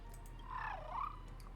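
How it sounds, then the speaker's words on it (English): A small bird in the video game Honkai: Star Rail lets out a single soft, warbling chirp that rises and dips, heard faintly and alone over a low background hum. "After letting out an adorable chirp, the bird flies away."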